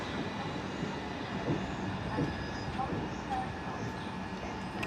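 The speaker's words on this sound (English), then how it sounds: "getting ready to depart is the 1220 Southeastern service from Hastings to London Charing Cross" Southeastern class 375 electric multiple unit on the Hastings to London Charing Cross service at Tonbridge station, a steady low rumble and hum of the idling train at the platform with faint squeaks and clanks, no speech.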